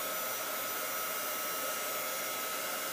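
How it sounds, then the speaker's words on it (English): A heat gun blows steadily and close up, drying misted ink dots on a scrapbook layout, a continuous even whoosh with no talking. "heat gun"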